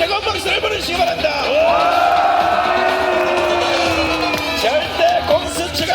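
A crowd at a Korean anti-impeachment rally near the Hannam-dong residence cheers and whoops over a loudspeaker announcer, with a sustained roar of voices swelling in the middle and then subsiding, while amplified talk continues.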